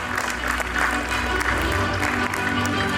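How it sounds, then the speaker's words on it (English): Sustained round of audience applause at a cultural and environmental commission session, dense and steady throughout with a low hum beneath and possible faint voices mixed in. "और जोर से तालियां हो जाए."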